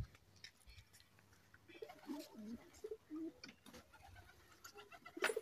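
Pigeons in a coop give soft, low cooing calls in short scattered bursts amid faint rustling and quiet background noise.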